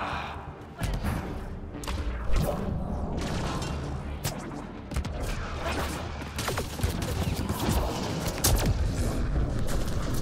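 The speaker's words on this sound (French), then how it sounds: "Ah vous avez vu les explosions en chaîne, hein." Chain explosions in the video game Mass Effect Andromeda, a dense run of booming blasts and crackling fusillade-like bursts rolling continuously for several seconds, loud and layered.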